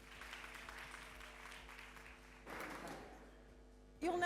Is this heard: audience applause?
yes